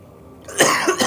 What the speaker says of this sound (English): Also, I'm gonna cough.